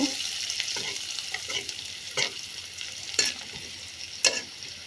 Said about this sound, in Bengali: পরিমাণ মতো লবণও দিয়ে দিলাম একটু হলুদটা বেজে নিব